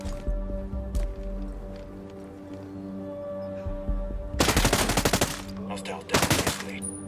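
Gunfire in the video game Ghost Recon: two loud, rapid automatic bursts, each about a second long, come in the second half over a steady low game drone and hum.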